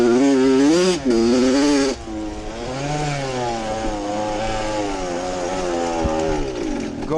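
A dirt bike engine fitted with a new exhaust muffler revs loudly and close, a high buzzing drone that surges in pitch, dips after a strong opening burst, then holds steady with rising and falling revs.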